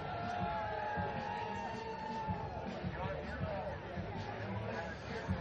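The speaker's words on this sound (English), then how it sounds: "The crowd. They're excited." Excited crowd noise with cheers and whoops at an ultimate frisbee game, a faint, distant hubbub of many voices under a nearby commentator's talk.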